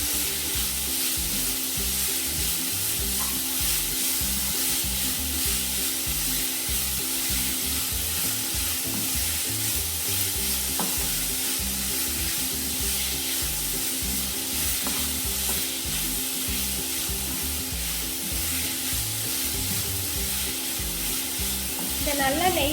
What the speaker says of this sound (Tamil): துருவி வச்சிருக்க பூசணிக்காவை நெய்யில் நல்லா வறுத்துக்கலாம்.